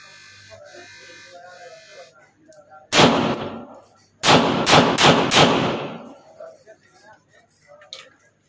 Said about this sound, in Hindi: अभी इस पर चेक फायर करें